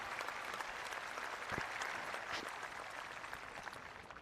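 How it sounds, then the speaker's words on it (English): Crowd applause at a high school graduation ceremony, a broad, sustained wash of clapping from a large audience heard at a moderate distance, with a few sharper claps and cheers standing out. "Let's give them one more big round of applause."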